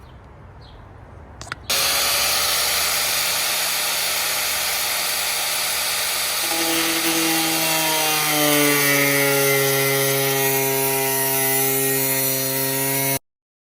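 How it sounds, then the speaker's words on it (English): An angle grinder fitted with a cut-off disc bites into the steel hood of a Mk1 Volkswagen Rabbit, starting abruptly as a loud, close, high whine and holding a sustained screech with shifting pitch before cutting out. "I'm going to use a grinder for this with a cut-off disc"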